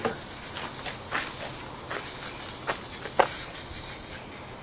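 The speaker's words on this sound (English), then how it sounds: "Keith is going to spray adhesive them" Spray adhesive hisses faintly and steadily throughout, with several brief louder spurts at irregular intervals.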